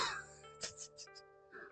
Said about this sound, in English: Sorry, I got a little cough there.